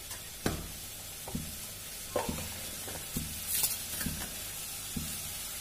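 A quiet, soft sizzle of frying in a little oil for a paneer gravy, with a spoon tapping and scraping the pan every second or so.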